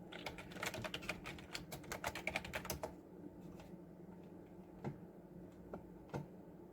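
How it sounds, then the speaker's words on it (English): Rapid keystrokes clatter on a computer keyboard during a home programming study session, a quick run of close, crisp taps that thins into a few scattered key presses. "I'm going to type."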